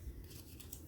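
Scissors snipping paper for a junk journal cover, a short close crunchy cut with a few soft snips, quiet and without talking.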